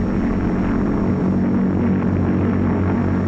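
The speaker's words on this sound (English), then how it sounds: "as the plane approaches the field, it slows down for the landing" A Lockheed airplane approaching an airfield to land, its engine drone loud and steady throughout with a broad low rumble and no voices.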